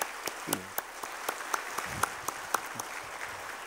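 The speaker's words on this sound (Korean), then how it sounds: "우리 뜨거운 박수로 맞이하겠습니다." A church congregation applauds during a Sunday worship service to welcome a new pastor, steady broadband clapping from many hands with a few sharper individual claps standing out, moderately distant and fairly quiet, with no talk over it.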